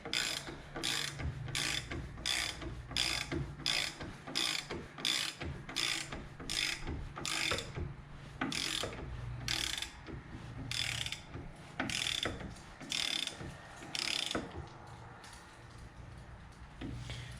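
Hand ratchet snugging the mirror bolts on a Jeep Wrangler TJ, a close, rapid series of crisp clicking strokes in a regular back-and-forth rhythm, about fifteen pulls in a row with no speech.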